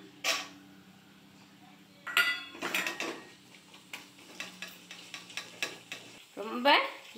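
Cashews fry in hot oil in a pan for a poha mixture, with a low sizzle under repeated scraping and stirring clatters from a spoon.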